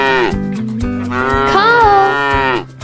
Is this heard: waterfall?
no